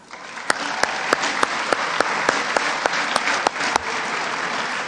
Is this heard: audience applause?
yes